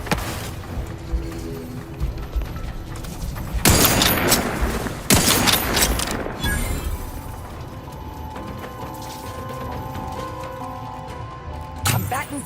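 Gunfire in The Outer Worlds 2 during an assault, a couple of loud dense bursts of shooting amid mechanical game sounds and clanks, with talk and game voices around it.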